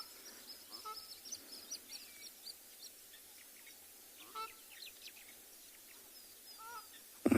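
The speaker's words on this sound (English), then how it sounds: "We've got crimson-breasted shrike calling in the background." Crimson-breasted shrike, drongo and sociable weavers calling at Tswalu in South Africa on a cool morning: scattered, faint chirps and whistles over a steady outdoor hush.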